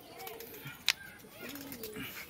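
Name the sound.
pigeons cooing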